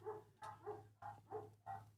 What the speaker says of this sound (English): My dog's a fucking lunatic.